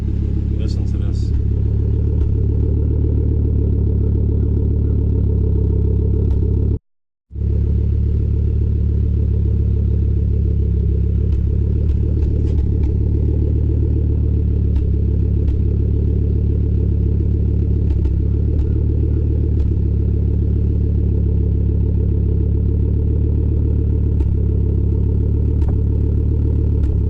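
A warm Volvo 850R engine idling steadily with a low, even rumble and light clatter, close and loud throughout, with one brief dropout partway through.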